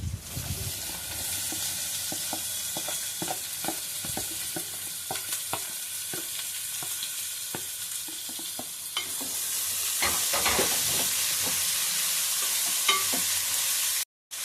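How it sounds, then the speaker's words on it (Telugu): Onions frying in oil for an egg curry, with a constant close sizzle and crackle, punctuated by spatula taps and stirring, getting louder and brighter toward the end before cutting off, without speech. "ఆయిల్లో ఉల్లిపాయలు వేసుకోవాలి"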